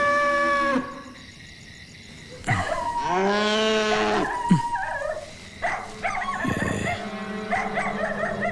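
Cattle moo loudly nearby in a rural setting, with several long, drawn-out lowing calls, a dog barking briefly among them, and faint fowl sounds in the background.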